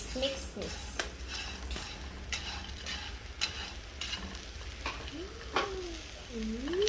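Butter is stirred into caramel instant noodles in a pan, soft scraping and sizzling with intermittent clinks, under a voice speaking at a moderate level.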